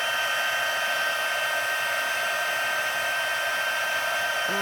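Embossing heat tool melting silver embossing powder on a Christmas card: a steady, close, hair-dryer-like blowing whir with a constant fan tone, running alone without interruption.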